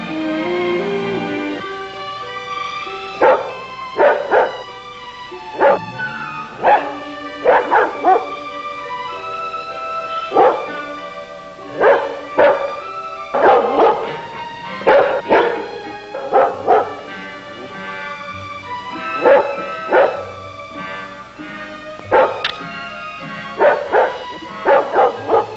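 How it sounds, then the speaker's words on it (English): A dog barks repeatedly on a television set, short bursts of yips and woofs coming in irregular clusters with brief pauses between, loud and near with no talk over it. "That dog has been barking for the last hour"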